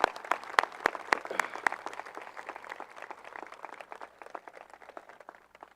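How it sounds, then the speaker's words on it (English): An audience at a high school graduation ceremony claps, with sharp individual claps at first that spread into a steady patter of applause and then slowly thin out, heard from a distance in a large room. "Can we have one more round of applause for our 4 speakers?"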